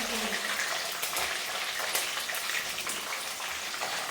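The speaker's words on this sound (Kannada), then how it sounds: "ಇವಾಗ ಇದಕ್ಕೆ ಕರಿಬೇವು ಮತ್ತು ಬೆಳ್ಳುಳ್ಳಿ ಎರಡೂ ಒಟ್ಟಿಗೆ ಹಾಕ್ಕೊಳ್ಳೋದು. ಸ್ವಲ್ಪ ಎಣ್ಣೆಲಿ ಚೆನ್ನಾಗಿ ಫ್ರೈ ಆಗಬೇಕು." Curry leaves and garlic sizzle steadily in hot oil, a dense, even crackle that holds close and constant throughout with no voices.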